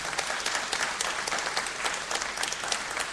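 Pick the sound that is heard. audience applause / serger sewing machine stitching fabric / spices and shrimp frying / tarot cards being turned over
audience applause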